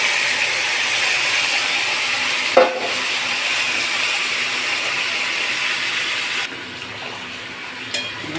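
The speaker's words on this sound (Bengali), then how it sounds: "এবার তেল গরম হয়ে গেছে, এবার একে একে করে এগুলো ছেড়ে দেবো।" Jackfruit pieces go into hot oil and fry with a steady loud sizzle, broken by a few brief clatters of utensils, with no talk.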